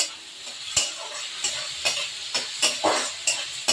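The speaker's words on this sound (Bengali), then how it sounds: "তেলে দিয়ে দিলাম শুকনো লঙ্কা তেজপাতা কাঁচা লঙ্কা দিয়ে দিচ্ছি পেঁয়াজ ভাজাটা" Onion, dried red chilli, green chilli and bay leaf fry in oil with a constant close sizzle, broken by regular scraping knocks of a spatula stirring in the pan.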